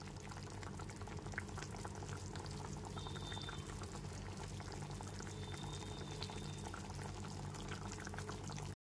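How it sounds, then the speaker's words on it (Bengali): Pabda fish and eggplant curry boils in a pot on a gas stove, a steady, close, dense bubbling and simmering that holds evenly throughout with no voices. "ঝোলটা এখানে ফুটে গেছে, মাছ আর বেগুনও খুব ভালো মতো সেদ্ধ হয়ে গেছে।"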